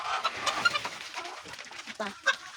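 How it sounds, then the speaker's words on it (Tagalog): Hungry backyard chickens feed, with scattered pecking taps and soft clucks spread through a short, fairly quiet stretch. "Happy eating, mga chickens."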